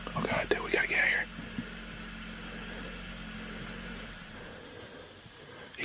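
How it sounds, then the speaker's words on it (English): A car idles with a low, steady hum before it cuts out and goes quiet near the end, while hushed whispering is heard at the start. "He shut the engine off."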